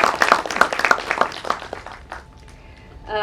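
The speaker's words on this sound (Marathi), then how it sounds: "एकदा जोरदार टाळ्या आपल्या स्वतःसाठी" Audience clapping for themselves at a Maratha Entrepreneurship Association inspirational talks event, a brief burst of dense applause that fades after two seconds, leaving a faint tone and room noise.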